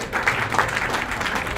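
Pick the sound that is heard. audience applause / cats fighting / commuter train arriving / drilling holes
audience applause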